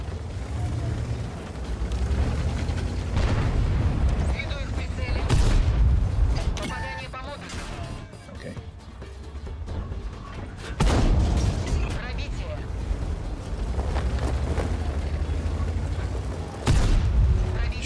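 Tank cannon fire in World of Tanks, with the K-91 medium firing at an enemy turret: several heavy booming shots with rumbling low-end tails, spaced across the stretch over steady battle noise and engine drone.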